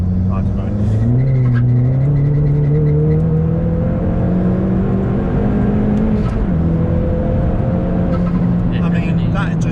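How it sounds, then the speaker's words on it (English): A Ford Fiesta ST tuned to full boost revs hard during a left-foot brake-boost launch, its engine note climbing steadily, dipping briefly, then rising again, loud and close inside the cabin with a voice speaking over it. "Should we see if I can do this brake boost? Oh, here we go. I'm doing it."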